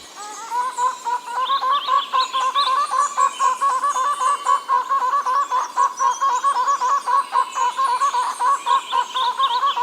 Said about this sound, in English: It's a bird called prong-billed barbet that likes the wet cloud forests.